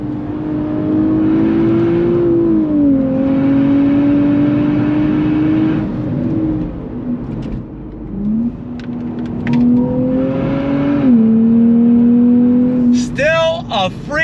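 A 2023 Nissan Z engine pulls hard through a decreasing-radius corner, a steady loud drone that dips and climbs with gear and throttle changes and ends in a brief tire squeal, while people talk in the cabin.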